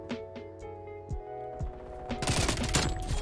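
Bursts of MAC-10 submachine gun fire in Black Ops Cold War, several short sharp shots at first, then a dense rapid volley building louder toward the end, with mechanical clicks between.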